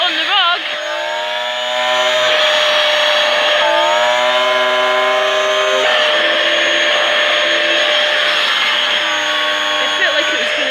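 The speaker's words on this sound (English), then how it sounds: "If the airflow gets restricted, the turbine head actually speeds up." A Dyson DC08 Animal vacuum cleaner runs loud and close with its turbine head on a rug, a steady motor whine whose pitch repeatedly rises and falls as the head's airflow changes.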